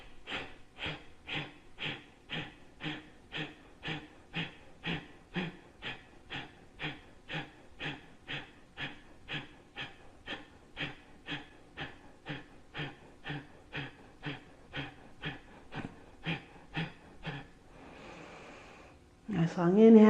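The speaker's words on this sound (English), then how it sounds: "take a nice deep inhale and then go ahead and begin with the exhale" Long series of slow, steady nasal exhales in a deep breathing exercise, roughly thirty regular breaths close to the ear, ending with a longer inhale and a voice.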